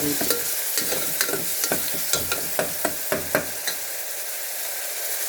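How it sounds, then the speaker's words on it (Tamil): Onion frying in hot oil with mustard seeds and cumin, a steady sizzle broken by a series of sharp spatula scrapes and stirs against the pan, close and fairly loud, with no talking. "எண்ணெய் ஊற்றி கடுகு போட்டு சீரகம் போட்டுட்டு ஆனியன் போட்டுட்டேன்"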